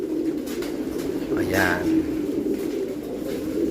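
Pigeons in their pens give a short, soft coo partway through, half buried under someone talking over a steady background hum.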